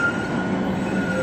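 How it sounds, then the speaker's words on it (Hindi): Steady, loud rumbling of a Helsinki tram running over metal rails, with a thin squeal of wheels holding through the noise and no voices present. "काफी रौला पाती है ट्राम"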